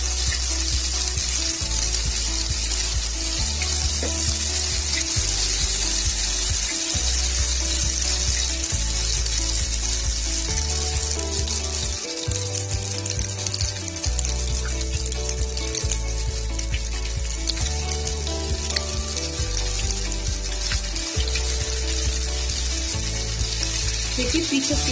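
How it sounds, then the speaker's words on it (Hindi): Large chicken pieces fry in hot oil for chicken bukhari, giving a loud, constant broadband sizzle close up. A low, rhythmic pulsing runs steadily beneath it. "तो हम इसको अब पहले बड़े बड़े पीसेस जो हैं उनको फ्राई कर लेते हैं।"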